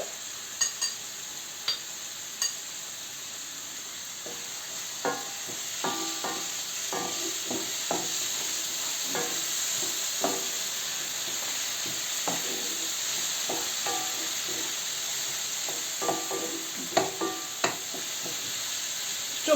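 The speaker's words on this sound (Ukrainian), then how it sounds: "пережарити оцю томатну пасту, треба її давати швидше" Oil sizzles steadily with a soft hiss, broken by scattered clicks and light scraping as tomato paste is stirred in the pan.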